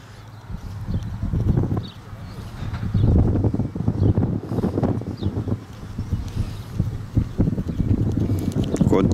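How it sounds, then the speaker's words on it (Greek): Strong wind on Santorini buffets the microphone in low, rumbling gusts throughout, with faint voices and other activity mixed underneath. "Εδώ δυνάμωσε ο αέρας."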